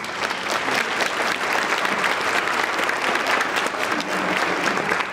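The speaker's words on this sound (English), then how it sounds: "I think that deserves a round of applause" A large audience claps steadily for three Hall of Fame inductees at a college ceremony, a dense, even ovation of many hands that stays loud and unbroken throughout.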